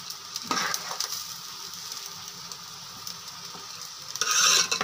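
Rice and lentils stirred in a pot with a little ghee, with a steady soft scraping and sizzle throughout and a louder burst of stirring near the end.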